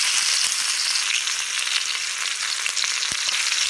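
Chopped onion hits hot oil already seasoned with cumin and dried red chilli, a loud, dense, continuous sizzle with no talking.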